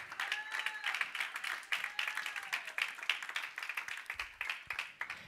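Church congregation clapping along during a sermon, a steady dense patter of many hands with voices and singing faintly mixed in throughout.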